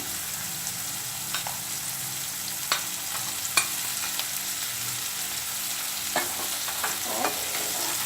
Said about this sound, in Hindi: जो मैंने पनीर के स्लाइसेस लिए हैं मैं इसमें डाल रही हूँ।